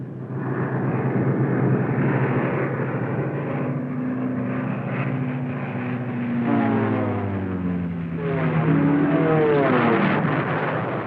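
World War II P-38 Lightning fighters attack in a sustained, loud roar of piston aircraft engines that builds and then swells again with rising and falling whines as planes pass close by, no talk over it.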